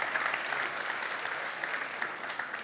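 Steady applause from a conference audience fills the whole stretch, dense clapping at moderate distance with no break or build.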